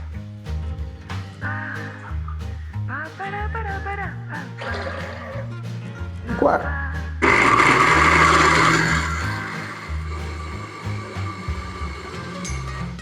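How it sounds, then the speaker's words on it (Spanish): A kitchen blender whirs on abruptly partway through, loud and steady, grinding a cup of soybeans with water, after a stretch of quieter music and handling sounds. "pondremos una taza de granos de soya en la licuadora"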